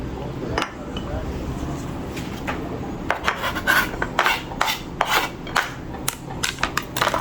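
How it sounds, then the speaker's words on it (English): A knife taps and scrapes on a cutting board while finely chopping a hot pepper, starting sparse, then settling into quick irregular clicks in the second half, close and moderately loud. "I'm cutting up this pepper fine."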